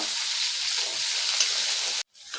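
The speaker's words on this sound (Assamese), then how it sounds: "মই পিঁয়াজটো প্ৰায় 2-3 মিনিট ভাজি ল'লোঁ, অলপ ৰঙচুৱা কৰি" Onions fry in hot oil with a close, even sizzle for about two seconds, then the sound cuts out suddenly before a brief return of crackling.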